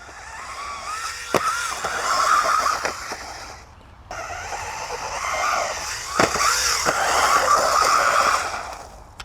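A DEERC 1205 off-road RC short course truck whines and buzzes as it drives, its electric motor revving up and down in two bursts separated by a brief pause, with sharp thuds and clatter from bumps along the way.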